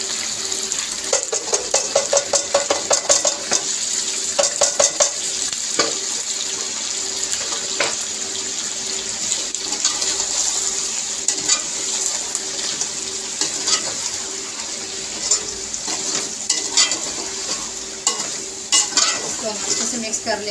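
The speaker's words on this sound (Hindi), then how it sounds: "तो अब मैं जो प्याज और टमाटर का पेस्ट बनाया था वो डालने लगी हूँ।" Onion and tomato paste goes into a pan of fried chicken feet, bringing a loud hiss and sputter followed by repeated scraping stirs and wet, splashy bursts.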